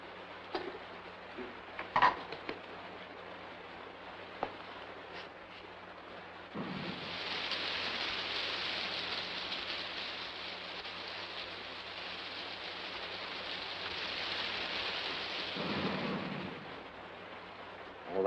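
Heavy rain with thunder pours steadily in a 1955 doomsday film scene, a broad continuous hiss that swells louder midway, with a few faint knocks and low rumbles beneath and no voices.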